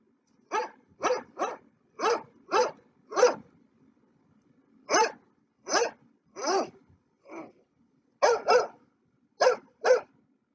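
A dog barks in a series of about fourteen sharp, loud barks, grouped in quick bursts of two and three with short pauses between them, clear against a quiet background.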